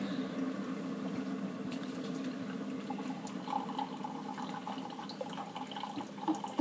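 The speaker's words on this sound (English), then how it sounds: "we are now brewing the hot water into the mug" Hot water from a K-cup coffee brewer running into a mug, a soft steady trickling and hiss at moderate volume, with a few faint clinks near the end.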